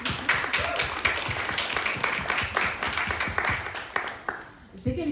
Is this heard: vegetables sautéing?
no